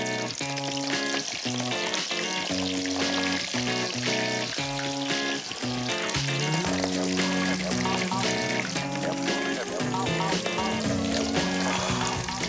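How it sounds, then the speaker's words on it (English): Potato-wrapped shrimp fry in hot oil with a continuous bubbling sizzle under bright background music, and no voices are heard. "all I need to do is plunge them into some hot oil"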